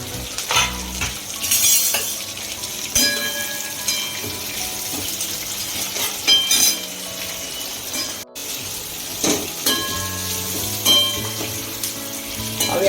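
Carrots, capsicum and cabbage stir-fry for veg hakka noodles, the pan sizzling loudly and continuously while a utensil scrapes and clinks at irregular moments against the metal.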